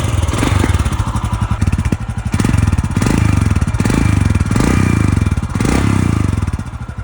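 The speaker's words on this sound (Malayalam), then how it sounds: "ഇതിൻ്റെ എക്സോസ്റ്റ് നോട്ടാണ് എന്നെ ഏറ്റവും കൂടുതൽ ഞെട്ടിച്ചത് കേട്ടോ." A Royal Enfield Himalayan motorcycle's exhaust thumps loudly and close by, rising and falling through several revs over a deep, rhythmic engine beat, with no talk.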